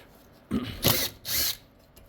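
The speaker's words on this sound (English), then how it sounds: "Now we're going to get all of our main valve body bolts out" Power tool such as a drill or impact driver backing out valve body bolts on a 47RH transmission, two short whirring bursts close by, with no talking.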